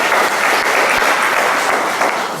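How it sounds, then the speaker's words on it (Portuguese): A church congregation claps together at a service. The applause is loud and close, a thick, even wash of many hands that runs the whole time and eases off slightly at the end. "Uma salva de palmas para vocês."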